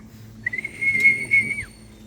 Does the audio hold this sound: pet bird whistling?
yes